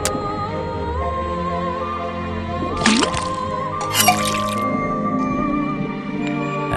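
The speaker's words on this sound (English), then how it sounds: "then tap the faucet." Water drips and splashes from a faucet into a cauldron in the point-and-click adventure game Detective Grimoire, heard as a couple of brief wet bursts over a steady layer of game music.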